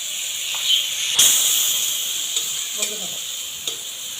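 Spice paste and chilli powder for a prawn curry sizzle and hiss steadily in a hot pan as it is stirred, with a few sharp scraping clicks over the constant frying.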